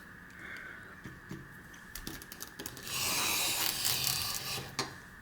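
Paper card being cut with an adjustable circle cutter, quiet clicking and scraping that builds into a louder continuous rasping cut lasting a couple of seconds.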